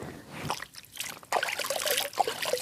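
Water trickling and splashing as hands are washed in a mountain stream on a Mount Sumbing hiking trail, a soft dribble that grows livelier midway, close by with no talk.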